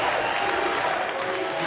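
Crowd at a Lucha Underground wrestling main event, a steady roar of cheering and applause filling the arena, dense and continuous at a moderate distance.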